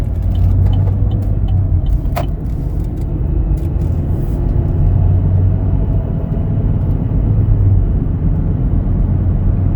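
A 2019 Chevrolet Equinox LT with 19k miles cruising at about 60 mph, giving a steady, loud low-frequency road and engine rumble that holds even throughout with no voices.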